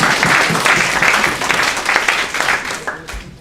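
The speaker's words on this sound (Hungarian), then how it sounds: "Then you should clap for Victoria." An audience at a DXN health presentation claps for Victoria, with a burst of loud, close applause that gradually thins out and fades toward the end.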